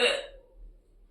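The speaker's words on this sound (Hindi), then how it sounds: "हिचकी आ गई भैया, हिचकी आ गई।" A single short hiccup bursts out sharply at the start, then fades into near silence with only a faint low hum afterward.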